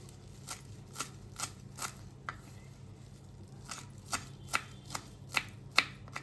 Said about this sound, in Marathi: हे आता बारीक आपल्याला चिरून घ्यायचे आणि आपल्याला कोथिंबीर चिरून घ्यायची